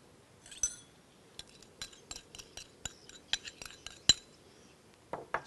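Utensil stirring sweet and sour sauce in a wok, heard as a run of sharp metallic clinks and scrapes at irregular intervals, fairly close and moderately loud, with no talking.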